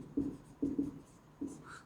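Writing on a board during a physics lesson comes as three quick, close strokes scratching in short bursts, quiet and separated by brief pauses.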